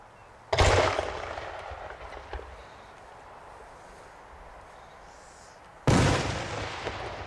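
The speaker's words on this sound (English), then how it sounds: "This is a light green magic peony, which means the color should spread with a ring and red pistol." A light green magic peony firework shell bursts with a loud sudden boom and a crackling tail, and a second loud burst follows several seconds later.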